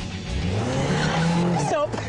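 A Lotus Elise S pulls away hard, tyres squealing briefly over a rising engine note, close and fairly loud for about two seconds before cutting off.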